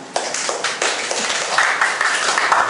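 Audience at a self-introduction meetup claps to welcome the next speaker, starting with a few distinct claps that quickly build into fuller, close applause with little talking.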